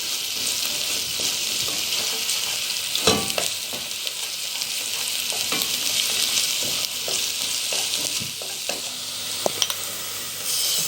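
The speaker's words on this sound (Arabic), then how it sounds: "قطعنا البصله اهي تدبل كده سكه، نروح نازلين عليها بالايه معلقه الثوم المفروم" Chopped onion and a spoonful of minced garlic sizzle in a pan for lauded black-eyed peas, a steady close frying hiss with occasional stirring clinks and scrapes throughout.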